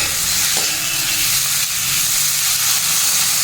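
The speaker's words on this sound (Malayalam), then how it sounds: "ഒരു വലിയ തക്കാളിയാണ് കേട്ടോ ഇടുന്നു ഇട്ട് കൊടുത്ത് നമുക്ക് ഇളക്കി കൊടുക്കാം" A large tomato goes into a hot pan and is stirred, giving a loud, steady sizzle with faint scraping throughout.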